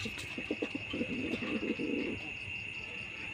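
A male Rajgolla pigeon in heat cooing inside a cage, a soft series of low, throaty pulsed coos in a quick rhythmic burst, close by and quiet over a steady high background hum.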